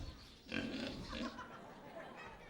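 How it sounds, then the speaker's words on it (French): Pigs in a pigsty grunt and oink softly in a few low snuffling bursts against faint background noise, heard at a modest distance. "Voici la porcherie du Big Deal."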